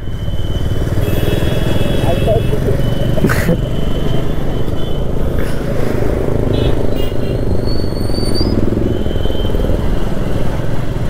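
A Royal Enfield Himalayan 411 motorcycle thrums steadily, its engine close and loud with a constant rumble and wind buffeting throughout the ride.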